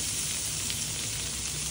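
Garlic sizzling in cooking oil in a pan, a steady dense frying hiss that stays even and close throughout, with no talking.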